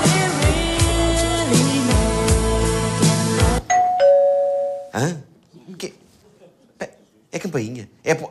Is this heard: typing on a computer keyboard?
no